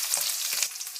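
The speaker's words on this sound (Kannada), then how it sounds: "2 ಈರುಳ್ಳಿನ ಕಟ್ ಮಾಡಿರೋದನ್ನು ಸೇರಿಸ್ಕೊಳ್ತಾ ಇದ್ದೀನಿ." Chopped onions fry in hot oil with dried red chillies, producing a bright, close sizzling hiss for a brief moment.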